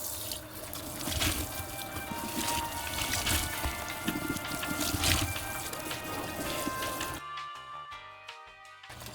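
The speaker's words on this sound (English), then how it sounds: "we're going to wash it out with some cold water in the sink" Cold tap water runs into a sink over fabric freshly dyed with tall goldenrod, a steady close rushing stream with trickles and splashes, then it stops abruptly near the end.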